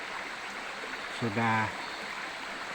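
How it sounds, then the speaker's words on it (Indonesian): Small forest river at the headwaters of the Rangan flowing as a steady, soft broadband wash, briefly interrupted by a short spoken word. "Inilah ya keberadaan sungai di kepala Sungai Rangan."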